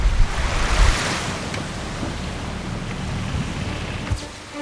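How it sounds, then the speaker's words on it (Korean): Waves break and surge continuously against the shore near Munseom island off Seogwipo on Jeju, with rough sea and wind noise filling the scene loudly and steadily. "다음 날에도 파도는 잦아들지 않았다."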